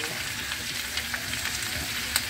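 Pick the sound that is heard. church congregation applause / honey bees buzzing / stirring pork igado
stirring pork igado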